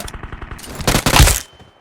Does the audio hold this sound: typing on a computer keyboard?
no